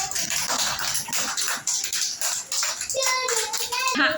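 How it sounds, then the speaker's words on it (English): Children clap in a classroom, a loose patter of small hands that runs in uneven bursts, followed by a voice and an adult speaking over the tail end. "Clap everyone."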